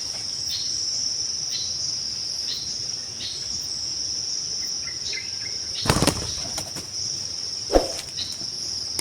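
Continuous high-pitched insect chirping in a steady trill, with a couple of brief rustling bursts near the end.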